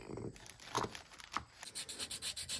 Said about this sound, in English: And just clean off some of that rust so it slides on better.